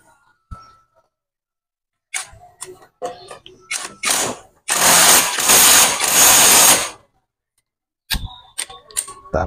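A wrench tightens a nut and washer on a vibrating vehicle, giving metallic clicks and ratcheting taps in uneven clusters, with one longer scraping stretch of steady turning.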